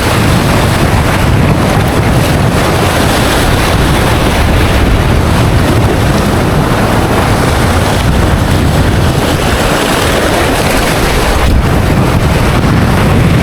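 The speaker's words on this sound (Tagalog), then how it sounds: "Sobrang lakas ng hangin." Strong sea wind roars and buffets against the microphone aboard a fishing boat, a loud, continuous rush with waves underneath and no pause throughout.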